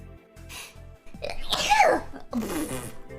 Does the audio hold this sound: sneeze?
yes